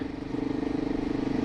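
A motorcycle rides along the road toward Tallinn, Estonia, its engine giving a steady, pulsing drone at a constant pace. It sounds close and moderately loud, with no talk over it.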